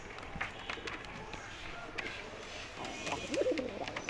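Male Giribaz pigeon cooing: a brief coo rises late on, fairly faint against a rustling, scuffling background with light shuffling movement.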